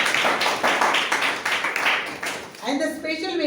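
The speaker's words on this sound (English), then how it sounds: "Let the applause begin, ladies and gentlemen, for the chief guest of today's evening, Dr. Chandrakant Shetty." A crowd at an evening event claps for the chief guest, a rapid irregular patter of hands that stops near the end as a voice begins speaking.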